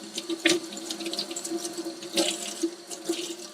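Tap water runs steadily into a sink during hand and forearm washing with soap, with a constant close splashing stream and a few louder splashes as hands move under it.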